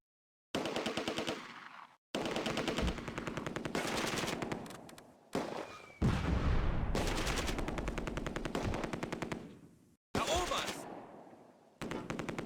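Heavy automatic gunfire from a rifle section in the Close Combat wargame, Oosterbeek battle, long sustained loud bursts of rapid shots separated by short pauses, with distant battle noise.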